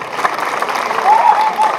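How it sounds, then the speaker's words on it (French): An audience at a French television special for Women's Day applauds, giving a brief, steady wash of clapping with a faint voice underneath. "Dico, qu'on va applaudir très fort."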